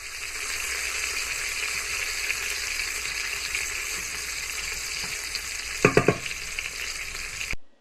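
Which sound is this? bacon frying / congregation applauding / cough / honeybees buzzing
bacon frying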